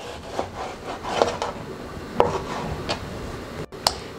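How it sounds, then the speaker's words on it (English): A knife slices fish fillets into fingers on a wooden board, giving several separate soft cuts and taps in an uneven rhythm, close by and fairly quiet. "the first thing we are going to do is to obviously cut our fish fillets into fingers"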